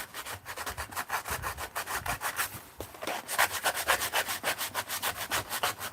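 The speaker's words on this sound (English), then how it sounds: "Close your ears, I'm going to sandpaper here." Sandpaper rubs back and forth over the edges of art journal paper in rapid, steady scratchy strokes, close and continuous with no talking.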